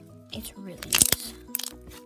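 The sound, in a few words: crunchy slime being squished and handled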